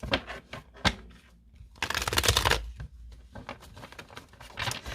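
Oracle cards shuffled and cut during a reading, in close, crisp riffling bursts separated by short pauses and soft taps.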